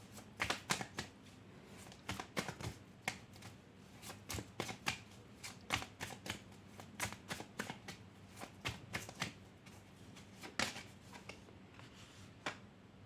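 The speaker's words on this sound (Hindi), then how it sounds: "चलिए हम और कार्ड निकाल लेते हैं।" Tarot cards being drawn and shuffled, with a quick run of crisp, papery flicks and snaps in irregular bursts, close by and fairly quiet, with no talking.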